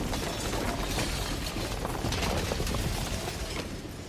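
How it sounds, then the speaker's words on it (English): A dense shattering burst from the video game Slay the Princess spreads into a continuous crackling, grinding texture. It holds loud and steady for several seconds, then eases slightly at the end, with no voices. "And then the shattering."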